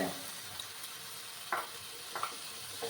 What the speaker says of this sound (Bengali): টমেটোটাকে ভালো করে কষিয়ে নিতে হবে